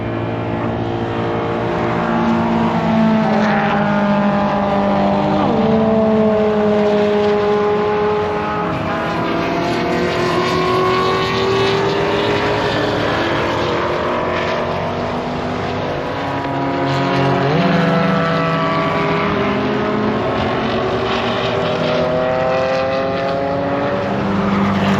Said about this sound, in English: you can just stand there and watch all the cars go by